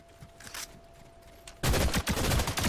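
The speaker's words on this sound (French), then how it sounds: "Ça me tire dessus." Rapid gunfire erupts in a Fortnite match, a dense burst of shots starting abruptly after a quieter stretch and continuing loud and close for the last second.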